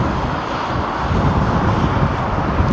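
An Airbus A330 airliner climbs away from Heathrow, a continuous broad roar of jet engines that holds at a loud, even level throughout.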